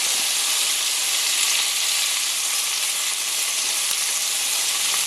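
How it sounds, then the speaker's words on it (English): Tomato with sugar and salt sizzling in a hot pan over medium heat, a steady dense frying hiss that runs evenly throughout at close range with no talk. "We're just going to cook the tomato a little bit, and then we're going to set it aside."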